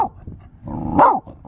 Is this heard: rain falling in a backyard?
no